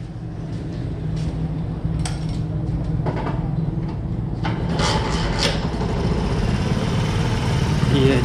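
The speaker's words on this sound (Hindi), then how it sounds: "ये है जी गाड़ी स्टार्ट है जी" A 2021 Honda CD 70 motorcycle in good condition idles steadily after starting, a close, even engine putter with light mechanical clicks and a few brief knocks, voices talking nearby.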